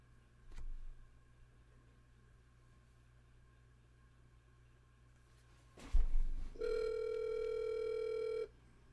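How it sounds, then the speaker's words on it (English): A telephone rings once in a steady electronic tone lasting about two seconds, preceded by a couple of brief knocks in a quiet room. "If you guys can all hear the ringing, let me know."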